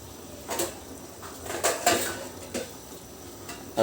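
Metal pot and lid clatter as a pan of squid adobo is covered for a few minutes of simmering: several sharp clanks and scrapes close by, with quieter rattles in between and no talk.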